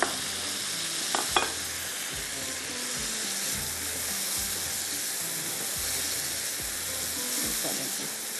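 Fried potatoes tipped into a sizzling mutton masala for do piyaza, a steady close hiss of frying oil with soft stirring scrapes throughout and a couple of brief clatters near the start.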